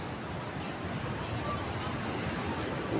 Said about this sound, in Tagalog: Malakas yung alon, no?